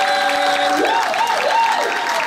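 Applause fills the room at a charity gala in Brussels, a dense steady clapping from a large crowd, loud and close throughout, with a voice singing or calling out over it.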